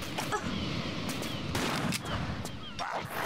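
Pistol shots from Tomb Raider III crack out in a rapid burst of several reports over a busy game soundscape, close and fairly loud.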